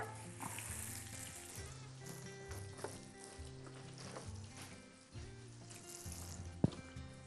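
Eggplant cutlets double-coated in egg, mayonnaise, spices and breadcrumbs fry in a pan with a soft, steady sizzle and a few light clicks and scrapes, heard close but fairly faint.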